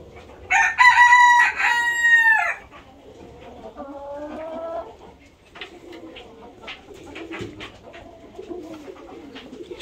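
A rooster crows loudly once near the start, then quieter clucks and chicken noises follow.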